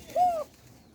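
A gola pigeon gives one short, soft coo, near and fairly quiet against a calm background.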